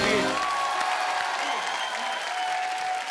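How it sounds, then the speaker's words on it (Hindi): A TV comedy studio audience breaks into loud, dense applause that stays strong for about three seconds, with faint crowd voices and a brief musical tone mixed in. "जोरदार तालियां हो जाए एक बार साइना के लिए और मेरे तीनों दोस्तों के लिए"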